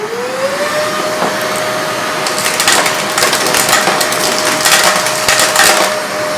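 A battery-operated wet/dry vacuum with a regular nozzle spins up into a steady whine, with gritty crunching and rattling debris being sucked in, loud and close.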